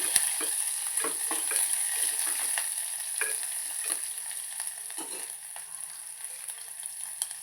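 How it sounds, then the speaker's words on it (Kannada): Onion frying in a pan sizzles steadily up close, with repeated scraping stirs and light clatter over the hiss, no talk. "ಒಂದು ಸಣ್ಣದು ಉಳ್ಳಾಗಡ್ಡಿ ಫ್ರೈ ಮಾಡ್ಕೊಳತ್ತೀನಿ"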